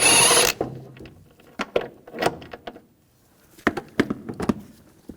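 Bolt being removed with a 16mm socket while replacing the front upper control arms on a 2004–2009 Audi A4 Quattro, a short burst of noise followed by scattered ratchet clicks and metallic knocks, close and intermittent with quiet gaps.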